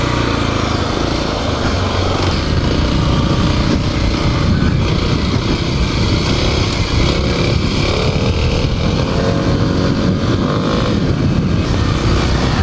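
Kawasaki KLX300 dirt bike on its stock exhaust, ridden on a trail behind suburban houses, gives a steady, loud engine drone up close with wind rush. There is no talk over it.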